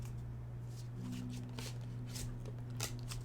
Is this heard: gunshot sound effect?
no